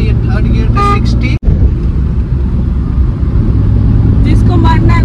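A Tata Nano car runs flat out in third gear on an open road, giving a loud, steady engine and road roar that fills the whole stretch, with someone talking over it.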